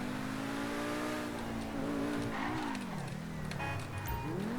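A Pegassi sports car in GTA V skids with rising and falling engine revs and tire squeal, the pitch sweeping up and down as it slides, loud and continuous.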